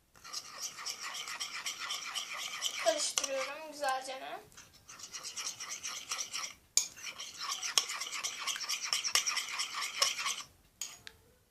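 Close scratchy stirring and squishing as a foam soap slime mixture is worked around a bowl, in uneven bursts separated by short pauses.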